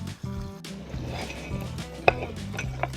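Meat tipped into a cauldron over an open fire for Transcarpathian bograch: a dull thud and a brief clatter of the pot, then a soft, continuous wet frying and shifting sound, with a sharp metallic knock near the end.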